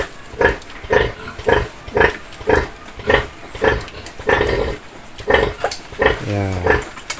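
A mother pig nursing a litter of thirteen newborn piglets on a farm, with steady rhythmic grunts roughly twice a second, close and clear, plus a few higher squeals near the end.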